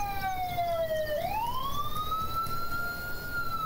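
A police car siren from the video game Thief Simulator wails in one rising and falling sweep, steady and moderately loud, with no voices over it.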